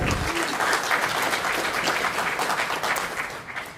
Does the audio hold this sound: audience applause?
yes